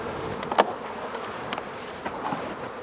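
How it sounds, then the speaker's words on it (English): Honey bees buzzing around an open 14 x 12 hive during an inspection, a steady close hum with individual bees zipping past the listener in brief louder passes. "Quite a number of bees on here"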